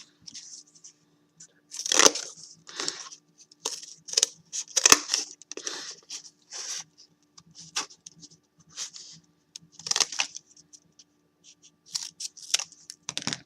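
Scissors snip through paper to cut out a small rectangle for a sculpture kit, giving a series of short, quiet, irregular cuts and crinkles close by with faint pauses between.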